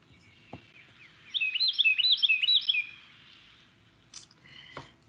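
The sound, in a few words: Carolina wren song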